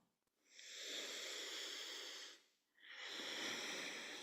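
Two long, forceful yoga exhales through the nose or mouth, each a sustained breathy rush with a short pause between them, close and clear with no talking.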